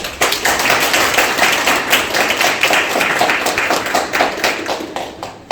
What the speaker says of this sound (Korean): 이승엽 대표님께 다시 한 번 더 큰 박수 부탁드립니다